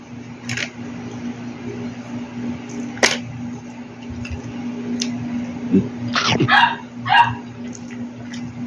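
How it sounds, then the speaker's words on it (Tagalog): Dogs barking nearby in a neighborhood, a few separate sharp barks scattered over a steady low hum, with brief yips and pauses between them. "May mga aso sa paligid."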